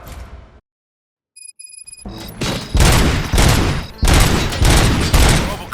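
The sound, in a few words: gunfire in RoboCop: Rogue City video game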